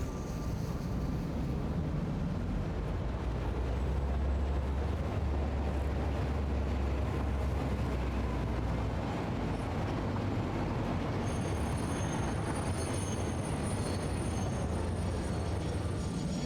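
A train reversing in the video game Satisfactory, a steady low rumble of rolling railcars with faint wheel noise, continuous and fairly loud throughout with no talk.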